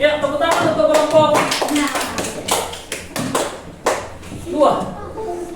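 Students in a classroom clap for group 2, with scattered, uneven claps and taps rather than a full ovation, each burst sharp and close.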